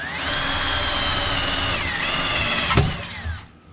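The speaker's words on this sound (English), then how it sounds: "Drill a hole through the top part" A power drill whines steadily into wood, its pitch dipping under load, then a short crunch as the bit breaks through before the motor winds down.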